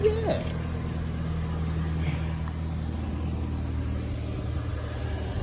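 An old, worn car engine turns over on its first crank and settles into a low, steady rumbling idle, heard close by with a faint voice briefly at the start.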